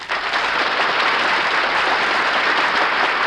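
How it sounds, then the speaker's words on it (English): Studio audience applause on an old time radio show, a dense, steady roar of clapping that holds loud and even for a few seconds with no voices over it. "will you please stop applauding these guys?"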